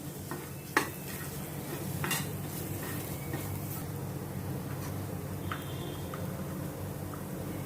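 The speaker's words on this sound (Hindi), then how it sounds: "इनको मैं अच्छी तरह से प्याज के साथ मिक्स करती हूँ।" Onions stirred in a home kitchen pan with chili powder and degi mirch red chili powder: a steady low sizzle with a few sharp spatula scrapes and clinks against the pan, close and moderately loud, no voices.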